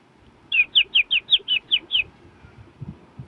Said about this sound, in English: here is an audio file that has this bird tweeting